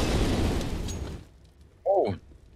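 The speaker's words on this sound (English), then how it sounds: "That was a sick nade combo onto Nefani." A grenade blast erupts loud and close in Counter-Strike on the Vertigo map, its boom decaying over about a second, then a short burst of another in-game sound follows, with no talk over it.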